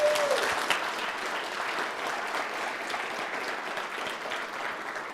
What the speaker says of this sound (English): So please give a extremely vigorous round of applause